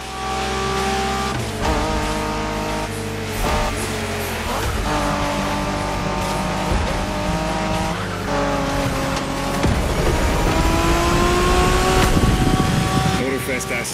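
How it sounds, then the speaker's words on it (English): Street racing cars in The Crew Motorfest, a Japanese street race, with engines revving and shifting through gears, tires squealing at moments, loud and continuous under music and voices. "Some proper Japanese street racing"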